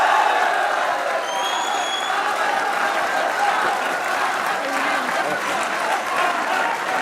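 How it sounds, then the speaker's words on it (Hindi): Studio audience on a Pakistani cricket talk show applauds a player after a loss to India, sustained even clapping with a light crowd edge holding steady from start to finish and no speech over it. "और अहमद भाई की तरफ से बाबर के लिए तालियां होनी चाहिए"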